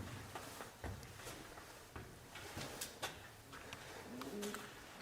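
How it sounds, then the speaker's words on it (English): Pigeon up in the rafters of an abandoned building, faint soft coos and a few light knocks and shuffles in a quiet, hollow space, distant and low. "I think there's a pigeon up there in the rafters somewhere."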